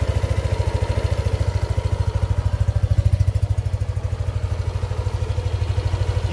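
A Yamaha Aerox 155 scooter engine idles alone with a fast, even putter, a low chugging pulse that holds steady throughout, recorded up close.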